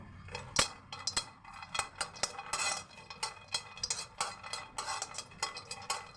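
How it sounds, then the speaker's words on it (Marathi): Peanuts roasting in a pan are stirred continuously, giving a quiet, busy rattle and clinking of nuts and spoon against metal in irregular bursts. "शेंगदाणे थोडे भाजून घेऊ"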